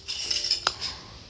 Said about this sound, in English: That is me just doing the dishes